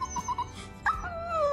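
A begging dog gives several short high whines in a quick run, then a longer drawn-out whimper that slides downward, close and fairly soft, with no talk.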